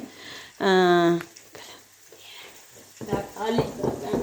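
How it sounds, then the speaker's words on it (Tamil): Chopped tomatoes sauté in hot oil in a pan, a soft sizzle and occasional stirring running under a person talking. "தக்காளி நல்லா வதக்கணும் நம்ம இப்போ வதக்கலாம்"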